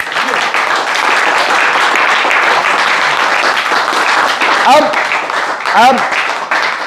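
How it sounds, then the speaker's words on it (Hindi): Loud, continuous audience applause fills a product-knowledge training session, steady and close, with a voice speaking briefly over the clapping near the end. "जोरदार तालियां"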